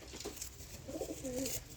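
High flyer pigeons being handled give soft, low coos, faint and close, repeating a few times over a quiet background.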